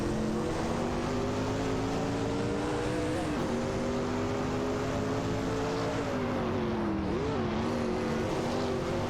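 Chevrolet Camaro IMSA and Audi 90 Quattro IMSA GTO race cars in a racing video game roar with a steady, droning engine note that wavers as the pitch shifts, loud and continuous throughout.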